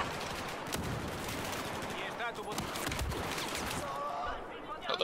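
Bursts of automatic gunfire and scattered shots crackle through a Battlefield 4 multiplayer match on the Dawnbreaker map, mixed with game noise while players talk over it.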